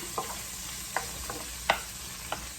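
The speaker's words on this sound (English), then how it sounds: "Stirring my bacon up. We're going to get this really good and crispy." Bacon fries in a pan with a steady close sizzle while a utensil stirs it, giving a few sharp scraping clicks at irregular intervals, no voices.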